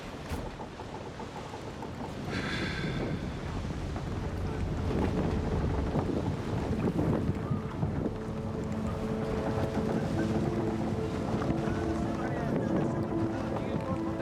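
Wind and water wash around a sailing ship putting out along the coast of Crete, a steady broad rushing with creaking and gusts throughout, close and continuous, with a brief higher tone early on.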